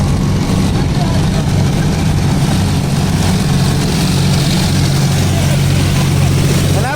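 A tractor engine running in first high gear during straw work on a farm at dusk gives a loud, steady, low rumble that stays even from start to finish.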